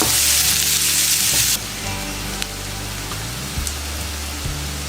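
Curry leaves and onions hit hot frying oil for potato bonda, giving a loud, dense sizzle for the first second and a half that settles into a steady, softer crackle, close and continuous with no talking.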